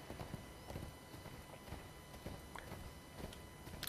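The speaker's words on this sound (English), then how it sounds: "And you see the horses riding." Horses ride past in ArcheAge, their hooves producing a steady, faint clip-clop rhythm of repeated soft hoofbeats against a quiet background.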